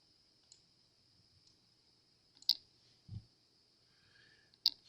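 Two sharp mouse clicks on a computer taskbar, widely spaced and close, against a faint steady electronic hum with a soft low thump between them.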